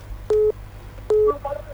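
Telephone line tones as a caller is connected to a live TV phone-in show: two steady, evenly spaced beeps, each about a fifth of a second, over a quiet hum with faint trailing noise.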